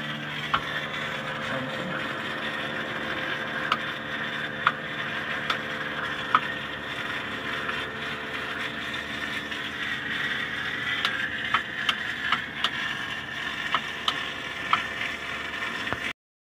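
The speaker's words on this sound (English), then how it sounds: "Sounding good. That's that Yanmar Diesel, boy." A Yanmar diesel engine on a Skipjack boat running steadily nearby, a constant droning rumble with mechanical ticking and clatter layered throughout.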